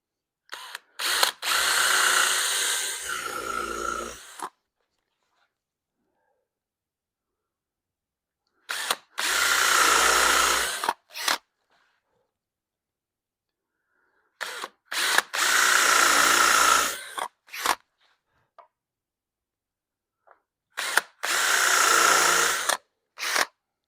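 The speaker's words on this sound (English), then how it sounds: "I set the depth of the drill bit itself so that it drills through here into the top to the exact depth of the screw." A power drill with a countersink bit bores screw holes into a wooden dresser top, in four separate bursts of a few seconds each, with silent pauses between them, close and loud.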